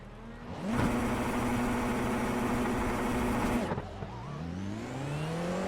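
A Formula 4 race car engine in the iRacing sim at a race start: a loud, rising rev holds steady for about three seconds, then drops off sharply before the engine climbs again through the gears.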